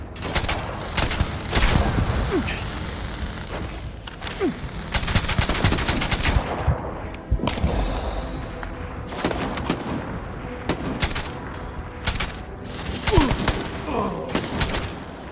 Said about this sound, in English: Just shoot everything!